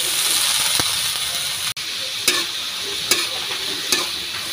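Bitter gourd (ampalaya) frying in a pan with garlic, tomato and onion, a steady broadband sizzle and hiss throughout with a few short stirring scrapes and clicks, close and fairly loud, no talking.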